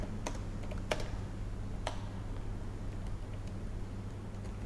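Scattered keystrokes on a computer keyboard, a few sharp clicks near the start and then sparse faint taps over a steady low hum.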